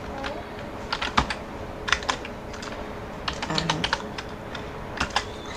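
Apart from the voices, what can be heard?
typing HTML code on a computer keyboard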